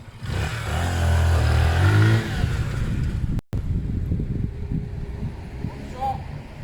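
A Zontes Mantis 125cc motorcycle rides along, its engine note rising briefly under heavy wind buffeting before fading into rough wind noise, with a person talking over it.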